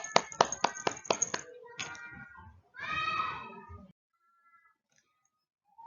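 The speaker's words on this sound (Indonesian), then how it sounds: "Tepuk tangan untuk kalian semua." A short burst of quick, sharp handclaps in a primary-school lesson for sixth graders, close and distinct in a rapid rhythm, followed by a brief voice and then near silence.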